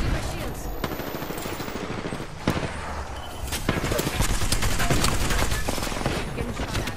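Rapid gunfire rattles through a battle royale shooter, with sharp shots cracking in clusters and short pauses between them. The bursts come loud and close, thickening into sustained fire toward the end.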